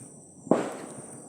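A single firecracker bursts on New Year's Day with one sharp, loud crack and a short fading tail, heard out in the open with faint background hiss.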